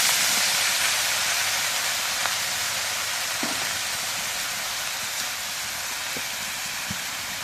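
Taro pieces fry in a pan with dried fish, chili and onion, producing a dense, even hiss of sizzling oil with occasional faint pops and clicks, steady and fairly loud.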